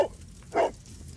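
Toby the dog barking in the video game Sherlock Holmes: The Devil's Daughter, a short bark at the start followed by a louder single bark half a second later, close and clear.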